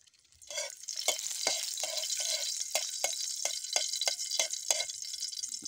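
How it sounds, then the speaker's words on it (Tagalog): Garlic sautés in a pan, a bright crackling sizzle that starts softly and then holds steady, broken by repeated stirring scrapes spaced about every half second. "Guys, laglag natin yung bawang."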